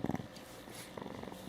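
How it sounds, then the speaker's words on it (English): A cat purrs softly and close by, a faint rhythmic rumble that fades briefly mid-way and then resumes with soft pulsing. "Nice squeaks and stretches and purrs."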